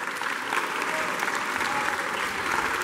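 An audience at a municipal friendship festival breaks into steady, sustained applause to welcome a local official, a dense wash of many hands clapping at moderate distance.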